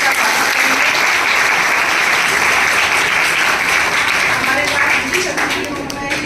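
Loud, sustained applause from an audience at a school ceremony honouring girl students, a dense steady wash of clapping filling the whole stretch and easing slightly near the end, with voices faintly mixed in.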